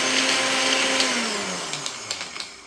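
Kitchen blender pulsing shrimp shells, a steady close motor whine that drops in pitch as it slows, with a few short knocks near the end and no talk.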